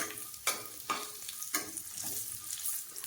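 Chopped dates and dried raisins fry in a pan for millet kheer, a quiet sizzle broken by several sharp stirring scrapes, close and fairly soft.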